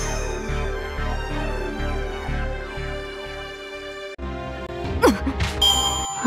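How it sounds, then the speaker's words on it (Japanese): A bell rings in the Fate/Grand Order video game, a bright metallic ding that cuts in sharply after several seconds of rhythmic music and rings out with clanging overtones. "はあ、鐘の音が聞こえる。"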